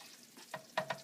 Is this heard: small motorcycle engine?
no